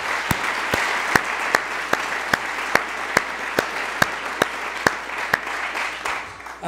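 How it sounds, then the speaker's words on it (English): Summit audience applauds in a large hall, a broad steady wash of clapping with one close pair of hands striking sharply in a regular beat throughout, then fading toward the end. "Let's give her a big round of applause."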